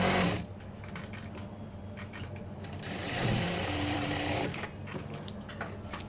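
A sewing machine stitching a sleeve lining in a tailoring class, with a continuous close mechanical whir that slows and speeds up, pausing briefly at the start.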